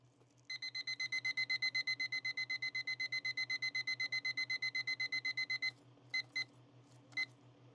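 A kitchen timer set during resin coaster work beeps in a fast, steady run of evenly spaced electronic pulses for about five seconds, then gives a few separate single beeps, close and clear with no talking.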